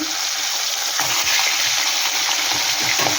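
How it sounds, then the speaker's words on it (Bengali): Katla fish fry in hot oil, a loud continuous hiss and crackle with a few sharper pops and spatters scattered through. "বন্ধুরা তেলটা কিন্তু আমার খুব সুন্দর করে গরম হয়ে গেছে এবার এক এক করে মাছগুলো আমি ভেজে নেব"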